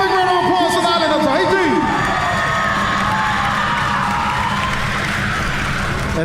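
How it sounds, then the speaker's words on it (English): A crowd at a live Polynesian club show cheers, whoops and shouts loudly and steadily, with children's high voices mixed in, a dense roar that continues throughout. "Give them a big round of applause for the island of"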